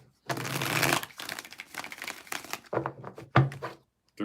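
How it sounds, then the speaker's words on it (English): Tarot cards are shuffled by hand in several distinct bursts of riffling and shuffling, close and fairly quiet, separated by short pauses. "Let's get 5 shuffles here."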